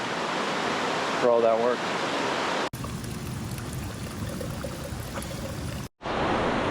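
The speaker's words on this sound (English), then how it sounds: "And up there is a big waterfall." A big waterfall and river near Goldmyer Hot Springs in the Cascade foothills near North Bend, Washington, give a steady rushing roar. A person talks briefly at the start, then the water noise continues alone, broken by short cuts.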